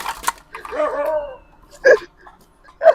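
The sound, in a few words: dog barking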